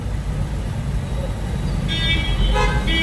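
Heavy road traffic jammed in Ludhiana, a dense low engine rumble with several car horns honking toward the end, close and loud.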